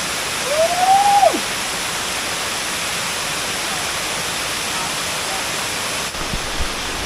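A waterfall in Tablas, Romblon pours as a steady, broad rush of white noise, with a short rising-and-falling whistle near the start.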